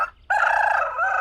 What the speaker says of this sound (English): they saw a rooster on the fence, croaking with all his power